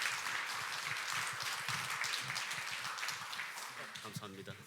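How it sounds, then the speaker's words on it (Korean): An audience applauds to welcome a diver and photographer giving a lecture on marine life at an academy event, a steady dense clapping that fills the room and fades slightly toward the end as a voice begins to speak. "큰 박수로 맞이하겠습니다."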